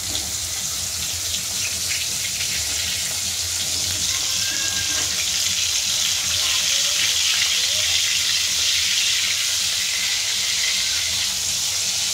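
Soft pabda fish sizzle as they fry in a pan, a constant close hissing crackle that stays even and unbroken throughout, with no talking over it.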